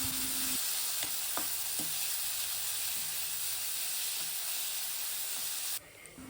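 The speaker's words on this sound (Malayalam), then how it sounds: "ചീനച്ചട്ടിയിൽ ഇതെല്ലാം കൂടി ഇട്ട് നന്നായി വഴറ്റിയെടുക്കുക" Crushed shallots, garlic and ginger sauté in a cheenachatti for a chicken curry, giving a dense, even hiss of hot oil with a few light utensil taps. The sizzle cuts off abruptly near the end.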